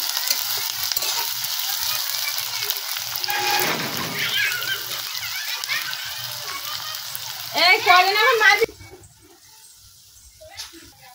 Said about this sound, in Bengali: পেঁয়াজগুলো ভালো করে আমরা কষিয়ে নেব, আগে ভেজে নেব